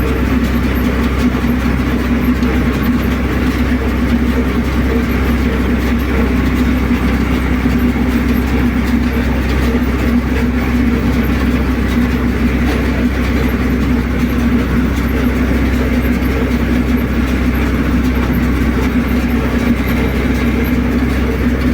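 Tractor baling hay in low gear, moving slowly during summer hay making for winter; a steady, loud, continuous engine drone with mechanical rattle runs unbroken throughout, with no talk.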